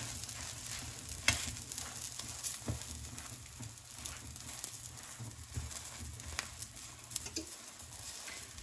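A cauliflower omelette fries in a pan with a steady, even sizzle, broken by scattered light taps and scrapes from a utensil, with no voices.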